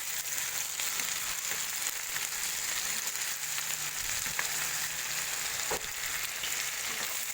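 Pork mechado in sauce sizzles and bubbles in a hot pan while a utensil stirs it, giving a constant frying hiss broken by occasional soft scrapes and knocks, close up and with no talking.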